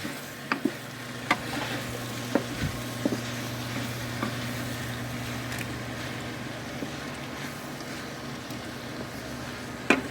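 Pork sisig sizzles steadily in a pan at home while a utensil stirs it, with sharp scrapes and clinks against the metal popping out now and then over the constant frying hiss.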